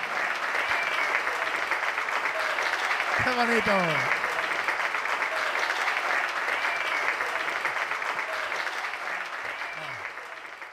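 A crowd claps steadily for the whole stretch, loud and continuous, while a voice calls out briefly in Spanish over the applause at a children's queen and gentleman gala.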